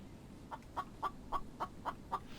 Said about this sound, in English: Where is this chicken? Because it sounded so close.